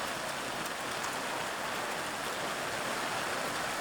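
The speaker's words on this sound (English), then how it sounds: "You see how hard that rain is coming down." Hard rain pours down steadily at an outdoor boys' lacrosse game, a dense, even hiss of falling water that fills the whole stretch without pause or other sounds.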